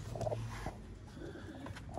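A pet Prince Golden pigeon coos softly in a low, rounded burst early on, then quieter murmurs and faint rustling follow with no talk over it.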